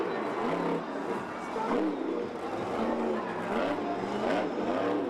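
Monster Jam trucks roar continuously at the World Freestyle Championship arena event, with loud engine revving, pitch swells and a crowd wash under commentary-like voices.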